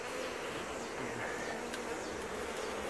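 Honey bees buzz steadily around a sealed trap cone mounted beneath a hive in Zephyrhills, Florida, a dense, continuous insect drone with no talk.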